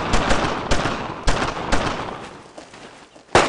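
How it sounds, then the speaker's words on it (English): Rapid gunfire from a World War II squad shooter, Brothers in Arms: Road to Hill 30, with dense overlapping rifle and machine-gun bursts, several sharp loud cracks standing out, and a final close, heavy shot. "Covering fire! Suppressed! No one stops firing!"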